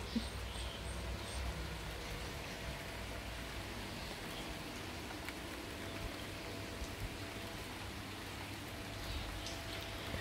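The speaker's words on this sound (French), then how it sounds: "La pluie est revenue." Steady, soft rain falls on Koh Samui in a continuous hiss, with faint birds chirping in the distance.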